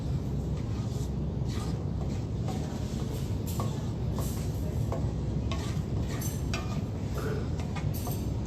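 Masala fries on medium heat while being stirred, a loud, dense sizzle with scraping and clinking of the spoon against the pan throughout.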